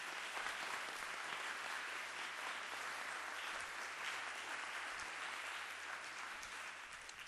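An audience at a school district board meeting claps for volunteers, steady, even applause filling the room at a moderate level from start to finish.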